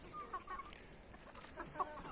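A heavyweight breeding rooster gives a few faint, brief clucking calls, quiet and somewhat distant against a soft background.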